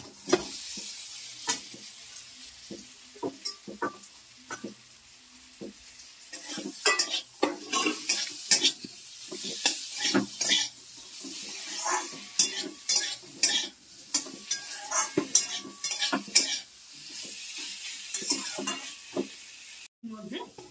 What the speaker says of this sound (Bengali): সোয়াবিন আর আলুটা ভেজে রেখেছিলাম সেটাও আমি মশলার সঙ্গে একটু কষিয়ে নেবো